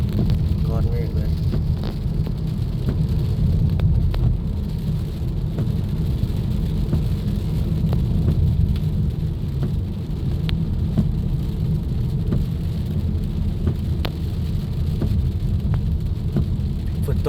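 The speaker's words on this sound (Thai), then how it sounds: "ฝนตกแบบนี้เป็นตาย้านเลยเนาะคือฟ้าผ่า" Heavy rain pours steadily and loudly with a dense hiss, while occasional sharp cracks and low rumbles suggest thunder in a daytime storm.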